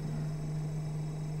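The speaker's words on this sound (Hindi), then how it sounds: "इस टाइप का अगर साउंड आ रहा है रेफ्रिजरेटर में" A refrigerator compressor hums quietly and steadily, a low constant drone with no change over the short stretch, heard alone at close range.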